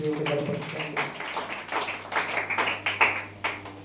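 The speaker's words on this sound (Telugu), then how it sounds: "గట్టిగా చప్పట్లు కొట్టి" A church congregation at a Telugu Sunday service claps loudly, a dense run of sharp hand claps that grows more rhythmic and pronounced toward the end, heard close and full.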